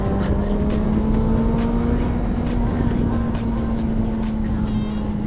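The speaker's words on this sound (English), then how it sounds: "I like full throttle that. That's why you ride in the power band." A Honda CBR600RR sport motorcycle revs hard at full throttle on a ride to school, its engine holding a loud, steady high-pitched drone close to the rider with wind noise, no gear changes or gaps over several seconds.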